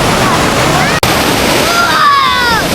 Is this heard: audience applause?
no